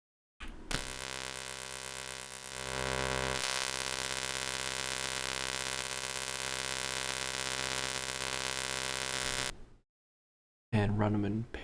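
Distorted glitch synth sample run through parallel distortion, a dense buzzing, harmonic-rich drone that swells louder after a couple of seconds, cuts out near the end, then returns briefly.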